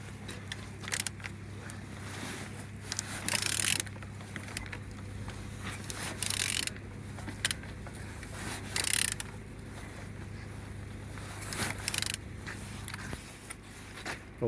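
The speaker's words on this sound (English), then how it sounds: "Turning the engine" A BMW M43B16 engine, code 8J540, is turned over slowly, giving faint, scattered creaks and mechanical clicks above a low, steady hum in a quiet room.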